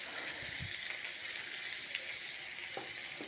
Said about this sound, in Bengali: এবার এখানে আমি তেলের মধ্যে দিয়ে দিলাম পেঁয়াজ আর টমেটো